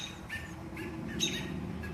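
Robins calling around a yard where a baby bird fell from the nest, a few faint high chirps repeating at irregular intervals over quiet background hum, no talking.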